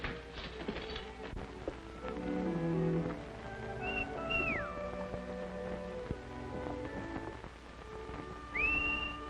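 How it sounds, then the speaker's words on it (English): A person whistles a few rising tones, short and clear, over a busy bed of horse-country ambience and movement in an Arizona western setting, with faint scattered noise and no speech. "I could have sworn I recognized that whistle."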